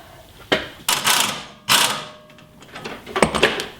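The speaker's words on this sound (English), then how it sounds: "So let me crank this one down a little bit." A wrench tightens a bolt on a Jeep ZJ coil spacer, close up: a handful of sharp metallic clicks and ratcheting scrapes in irregular bursts, with no talking.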